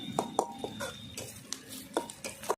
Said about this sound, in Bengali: পেঁয়াজটাকে আমি একটু লাল করে ভেজে নেব ভালো করে।